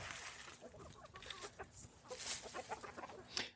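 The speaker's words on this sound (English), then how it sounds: "So let me call them in and I'll show you some chickens." Backyard chickens cluck and squawk in a flock, with several birds calling in quick, irregular bursts at close range, fairly quiet overall, with no talk over them.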